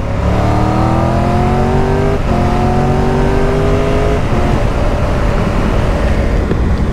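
Motorcycle engine accelerating on a muddy track, loud and close, rising in pitch through two revving pulls before easing into a rougher, lower rumble.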